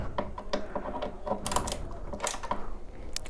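Nuts being loosened with a tool while fitting a mobile holder onto a KTM motorcycle, with rapid clicking ratchet-like bursts and metallic ticks close by, continuous and uneven.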